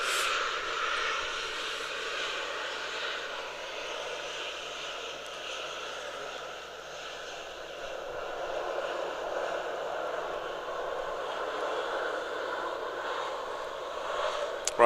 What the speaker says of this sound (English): Ryanair 737 just arriving here at Manchester